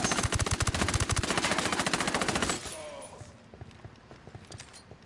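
Rapid automatic gunfire in Ghost Recon, a fast, steady stream of close shots for about two and a half seconds, then scattered softer pops and clatter. Voices can be heard over the firing.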